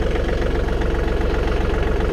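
A John Deere 4105 compact utility tractor with a turbocharged, glow-plug engine idles close by, a steady low, throbbing rumble with an even pulsing rhythm and no talk over it.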